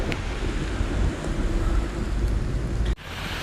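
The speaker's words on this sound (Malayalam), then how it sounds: "മഴയെന്ന് വെച്ചാൽ ജാതി മഴ ഇടിയും വെട്ടുന്നു" Heavy rain pours steadily with a deep rumble of thunder underneath, loud and continuous, then drops off abruptly near the end, during a January night in Kerala.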